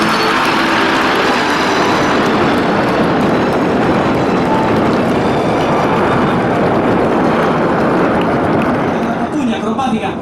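A loud, continuous jet roar from a Frecce Tricolori aerobatic display jet at the Jesolo Air Show fills the air, a broad rushing engine noise holding steady throughout, with faint voices mixed underneath.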